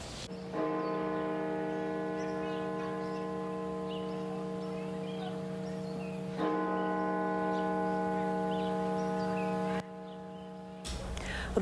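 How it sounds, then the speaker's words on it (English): A bell at Washington National Cathedral tolls slowly, with two or three deep, ringing strikes whose long hum fades between them, heard from a distance. "The Washington National Cathedral tolling the bell today in remembrance of the 19 children"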